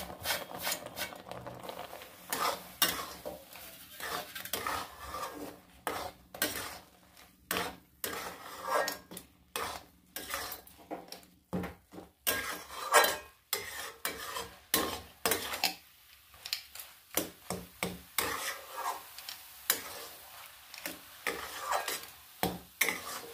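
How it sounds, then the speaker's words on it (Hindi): Roasted semolina and carrot stirred in a pan, with a spoon scraping and clinking against the metal in a steady, busy rhythm, faint sizzling beneath, no talking. "अब मैंने मिक्स कर लिया है सूजी और गाजर को।"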